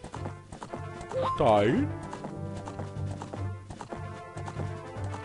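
Horse hooves clip-clop at a steady rhythm while riding in the Zelda Ocarina of Time video game, with a horse whinny partway through, under someone talking in German.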